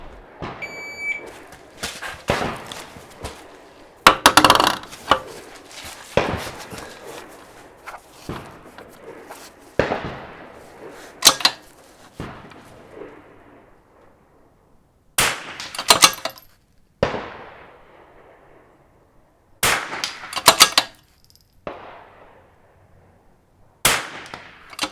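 Rifle shots at an outdoor shooting range during an NRL22 course of fire, a series of sharp, loud cracks spaced a few seconds apart, each trailing off in a brief echo, with some clinking and shuffling between shots.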